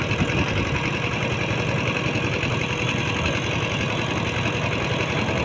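Steady mid-pitched chugging of a rural i-taen farm vehicle's engine running continuously on a road near Nong Hong, loud and close with an even knocking rhythm throughout, no talk.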